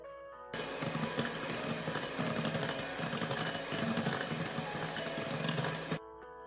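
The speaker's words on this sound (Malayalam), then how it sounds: "ഒരു 1/3 കപ്പ് സൺഫ്ലവർ ഓയിലാണ് എടുത്തിരിക്കുന്നത്. അതുകൂടെ നമുക്കിതിലേക്ക് ചേർത്തിട്ട് ഒന്നുകൂടി ബീറ്റ് ചെയ്തെടുക്കണം." An electric mixer beats cake batter with sunflower oil added, running as a continuous close whir for about five seconds, then switching off.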